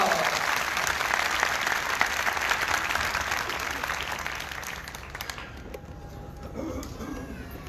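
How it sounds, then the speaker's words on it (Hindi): Loud, sustained applause from a church congregation, dense clapping filling most of the stretch before thinning and fading toward the end. "मुकस्समा मरियम की जोरदार तालियां"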